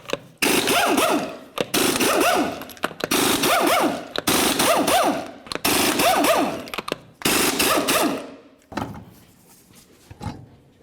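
Impact wrench bursts loosening 21mm lug nuts on a Nissan Titan front wheel, six loud rattling runs in steady succession, close up, followed by a quieter trailing clatter.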